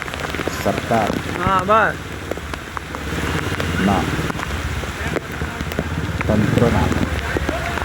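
Heavy pre-monsoon rain pours onto flooded streets in Ahmedabad, a steady dense hiss of water running throughout while people talk over it.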